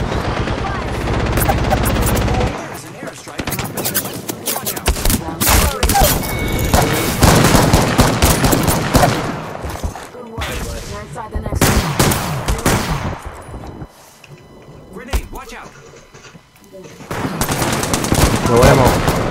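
Bursts of Apex Legends gunfire, loud and close, with rapid automatic volleys and booms in irregular clusters separated by brief lulls, while players talk now and then.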